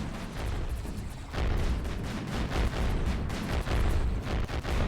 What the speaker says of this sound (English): this machine gun turret seems to be holding its own